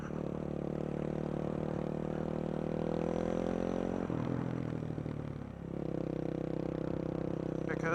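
A supermoto motorcycle engine drones loudly during wheelies. The steady tone dips partway through and then climbs back as the throttle changes.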